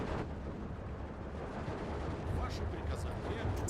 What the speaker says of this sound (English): Ooh, artillery landed right on that.